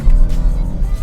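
A BMW 328i F31 wagon with its stock exhaust rumbles close by, a deep, loud engine note that swells and dips slightly over about a second, with no other sound on top.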